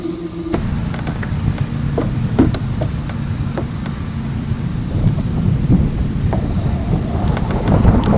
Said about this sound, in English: that wind is, I don't know, the last 10-15 minutes it's really starting to kind of pick up and blow a little harder